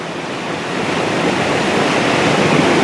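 Glacial meltwater pours as a waterfall down into a moulin in Alaska, a steady, loud, broadband roar of rushing water with no breaks or voices.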